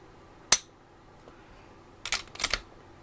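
Glock-pattern trigger with a Desert Tactical budget upgrade in a Palmetto State Armory Dagger pistol; one sharp striker-release click, then a quick cluster of smaller mechanical clicks, close but quiet in a still room.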